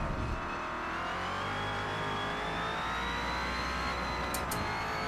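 A Next Gen NASCAR race car in Forza Motorsport on a flying lap at Mount Panorama, its engine roaring loud and steady as it climbs through the revs, with brief tyre noise near the end.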